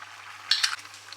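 Orzo with salt, saffron and nutmeg is stirred in a pan, a quiet low hiss broken by a brief burst of spoon scraping and clinking near the middle.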